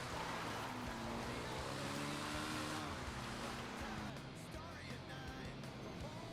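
Nagasaki BF400 motorcycle, a video-game bike modeled on the Honda CB400, engine droning and shifting pitch as it revs, loud and steady with a rising and falling tone and no one talking.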